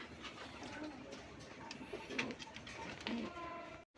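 Fancy gola and racer pigeons coo softly nearby, a low murmuring call over faint background noise and a few light knocks.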